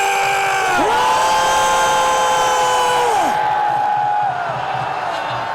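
At an outdoor political rally in front of a train station, a large crowd shouts together in a loud, sustained roar for about three seconds, with whoops and blaring horn-like tones over the cheering.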